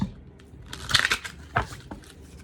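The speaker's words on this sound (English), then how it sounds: "Let me shuffle really quick, guys, and get another message." Tarot cards being shuffled by hand, giving soft papery riffling and a few sharper flicks and snaps across a couple of seconds, close and fairly quiet.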